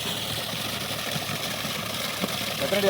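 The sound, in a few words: vehicle engine idling after arriving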